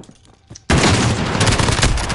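Loud, dense burst of gunfire from Call of Duty Modern Warfare starts abruptly after a quiet moment and keeps going as continuous rapid shooting and blasts, close and forceful.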